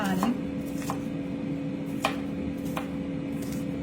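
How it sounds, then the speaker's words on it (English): A knife chops an onion into small bite-sized pieces on a cutting board, a few sparse, distinct taps spaced about a second apart, close and fairly quiet. "just gonna chop it up in small bites, but not like tiny"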